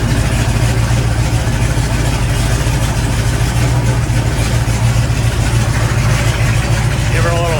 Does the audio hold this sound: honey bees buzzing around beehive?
no